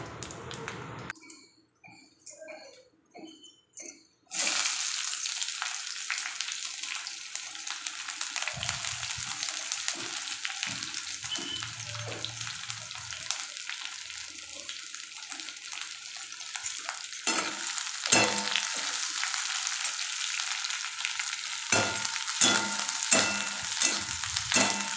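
Hot oil sizzles in a pan, starting with a few quiet clatters before a sudden loud hiss that holds steady, with occasional stirring clinks and no talk.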